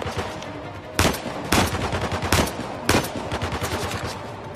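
Gunfire in the video game Uncharted: The Lost Legacy, several loud single shots spaced about a second apart over a steady crackle of rapid background fire, close and punchy with no speech.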